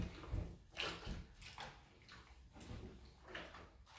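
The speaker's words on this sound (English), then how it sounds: "give everything a little bit of a stir to make sure everything is covered in this borax mixture" Laundry soaking in borax water is swished around a bathtub, several slow sloshing surges of water at close range with quieter swirling between, no voices.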